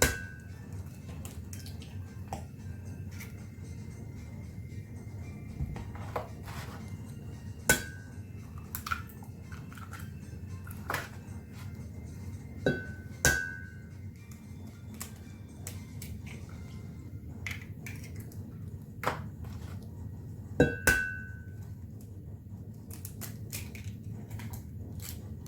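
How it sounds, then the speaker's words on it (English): Four eggs cracked into a treacle tart mixture: sharp isolated clicks and taps of shell and bowl ring out over a low steady background hum, with no talk. "And now we're going to add 4 eggs."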